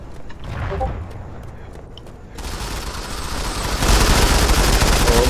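Gunfire from the mobile shooter game Modern Combat 5 comes in rapid bursts and sustained automatic fire, growing louder and denser toward the end, while a player talks over the action.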